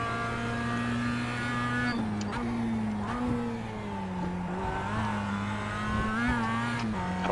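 Mazda MX-5 Cup race car engine in the iRacing game at Lime Rock Park, a loud, steady droning whine that rises and falls through gear shifts and throttle changes, with no talk over it.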